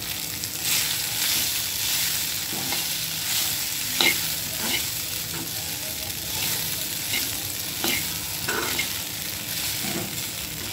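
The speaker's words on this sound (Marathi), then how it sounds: "आणि चांगलं मिक्स करून घेऊ, हलवून घेऊ." Poha being stirred and mixed in a hot kadhai, a steady scraping and tossing with a faint sizzle underneath, plus several sharper clinks of the spoon against the pan.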